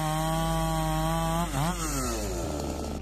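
A big chainsaw with a 7-foot blade and a 200cc engine saws through a towering oak trunk, a loud, steady, close whine that dips in pitch as the chain bites deeper into the wood.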